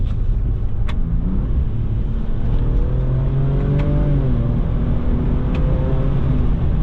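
Steady engine drone inside the cabin of a moving Ford Ranger Raptor pickup truck, the pitch rising and shifting through gear changes, loud and continuous with no talking.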